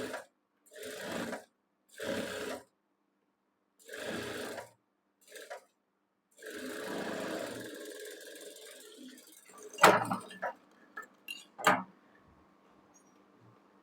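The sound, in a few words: sewing machine stitching a blouse sleeve seam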